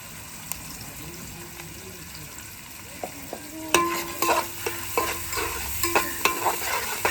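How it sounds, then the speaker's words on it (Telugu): Onions frying in a pan with turmeric, a soft steady sizzle that grows busier partway through, with scattered clinks and stirring knocks close by. "ఉల్లిపాయలు వేగే వరకు"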